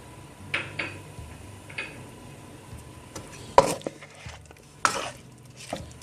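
Chicken karahi masala with green chillies being stirred in a pot, heard as intermittent metal spoon scrapes and clanks against the vessel, close and moderately loud, with quiet gaps between strokes.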